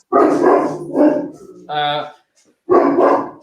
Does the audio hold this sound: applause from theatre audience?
no